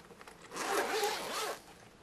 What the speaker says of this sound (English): dual zippers,